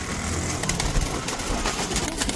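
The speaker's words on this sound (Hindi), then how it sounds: "ये देखो सारे सफ़ेद जर्चे फुल सरे मद्रासी, एक से एक ज़बरदस्त मद्रासी कबूतर है" White Madrasi pigeons coo in a loft among many birds, a soft low murmur running through a steady, noisy background with a faint engine-like drone.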